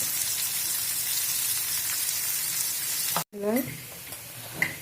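Green chili, garlic and ginger sizzle and fry loudly in a pan, a close, steady crackle broken by a brief dropout, then a short voice briefly over the sizzle.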